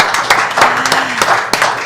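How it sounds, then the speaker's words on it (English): An audience at a League of Women Voters school district candidate forum claps, giving a short burst of close, moderately loud clapping with sharp individual hand claps standing out over the brief applause. "Let's give applause."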